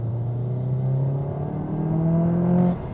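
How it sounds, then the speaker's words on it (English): A 400 wheel-horsepower 2015 Subaru WRX STI engine revs hard under acceleration while driving, a loud, steady rising drone building over about three seconds before dropping off, with no talk over it. "I love how you have to rev it out and then it just, man, it's like a freight train."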